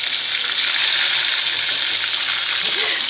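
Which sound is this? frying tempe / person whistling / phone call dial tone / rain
frying tempe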